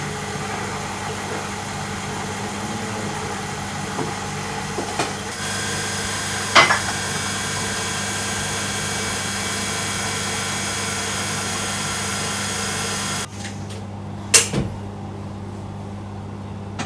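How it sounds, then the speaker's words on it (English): A stand mixer turns a dough hook through flour dough spiced with cardamom and salt, giving a steady, even motor hum near at hand with a few faint knocks and a brief rattle. "Start the dough hook mixing."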